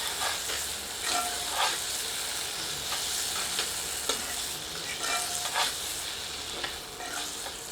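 Masala spices fry in a pan with a constant soft sizzle while a ladle scrapes and stirs at intervals, producing several brief scraping strokes over the steady hiss.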